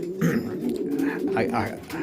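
Racing pigeons coo in low, soft rolling calls, close by, with some faint background noise and movement.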